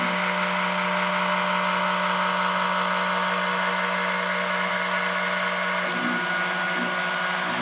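A Shapeoko 3 CNC router with its spindle at 5,000 RPM engraves anodized aluminum with a diamond drag bit, giving a steady, loud mechanical whine and hum that runs unbroken throughout.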